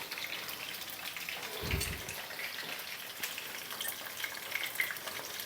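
Chicken frames fry in hot oil in a pan with a soft, continuous sizzle and light bubbling crackles, close and quiet, with one brief low thump.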